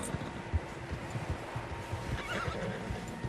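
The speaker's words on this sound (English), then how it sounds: "Horses, quite a few of them." Several horses whinny and neigh in the Red Dead Redemption 2 video game, with soft clip-clop hoofbeats and scattered thuds underneath, fairly quiet and close, no talking.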